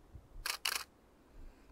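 A Nikon D700 DSLR fires its shutter twice in quick succession outdoors, two sharp mechanical clacks close together against a quiet background with faint wind rumble.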